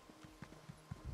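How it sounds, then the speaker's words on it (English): Horse hooves clip-clopping in the video game Elder Scrolls Online, a light, quick series of soft hoof thuds in an uneven walking rhythm, faint and close, with no talk. "Oh, that lovely horse."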